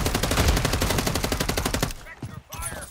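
Rapid automatic gunfire from a Call of Duty match rattles in a loud, steady burst for about two seconds, then breaks into scattered shots and game effects.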